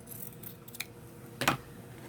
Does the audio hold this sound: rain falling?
no